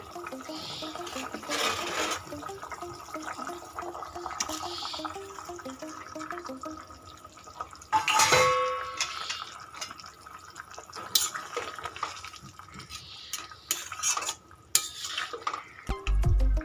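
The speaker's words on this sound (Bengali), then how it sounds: "ঝোলটা ফুটে গেছে, এবার আমি মাছগুলো আর ঝিঙেগুলো দিয়ে দিব।" Catla fish curry broth with ridge gourd bubbling in a pot, a steady watery simmer with drips and splashes, a loud clatter of pan or ladle in the middle and another near the end.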